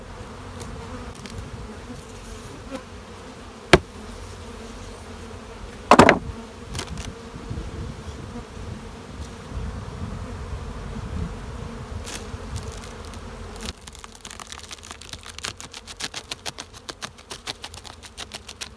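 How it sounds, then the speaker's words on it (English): Honeybees drone in a steady, dense buzz around open hives during a quick inspection, with sharp knocks and a loud scrape of hive parts, then a rapid ticking clatter in the last few seconds. "Pretty much full of bees here."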